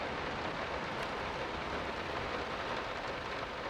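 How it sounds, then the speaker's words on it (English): Heavy, loud rain in the horror video game Layers of Fear pours as a dense, unbroken wash of noise, steady and close throughout with no speech over it. "It's very loud rain."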